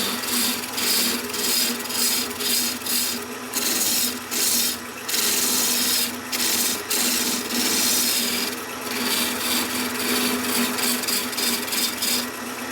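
A chisel carves into a wooden mushroom spinning on a Shopsmith wood lathe, giving a continuous rough scraping and rasping with rhythmic surges as the tool bites, loud and close with no talking.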